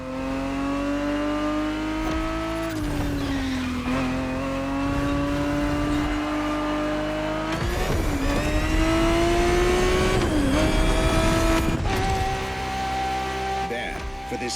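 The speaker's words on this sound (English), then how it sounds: "365 GTB4 is the perfect vehicle for you to experience Ferrari racing as it felt back in the 70s" A Ferrari 365 GTB4 engine roars steadily in The Crew Motorfest racing game, rising and falling with gear changes and revving, loud and continuous throughout with brief dips between shifts.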